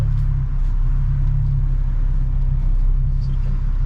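A friend's Ford Mustang driven on the road, its engine a steady, loud low rumble with constant road noise throughout, no voices.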